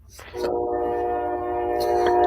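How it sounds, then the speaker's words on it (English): A train sounds its horn passing near a train station close to a house, a loud sustained chord-like blast swelling over the rumble of the passing cars. "I live close to a train station. In case you didn't notice."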